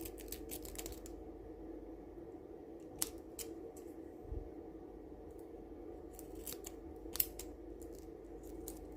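Scissors trim excess sellotape with a scattering of quick, sharp snips and clicks, some in rapid clusters, close but quiet against a low steady background hum.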